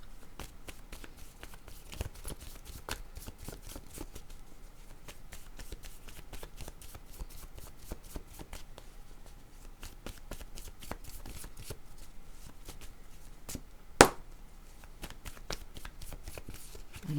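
Tarot or oracle cards being shuffled by hand, a quiet, close, steady rapid riffling of card edges with one sharp tap near the end.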